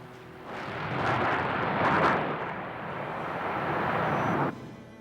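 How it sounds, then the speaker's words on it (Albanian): Bombs strike a large highway bridge, a heavy rumbling roar of explosions that swells and holds for several seconds before cutting off abruptly, with no talk over it. "The bombs land right in the middle of the bridge."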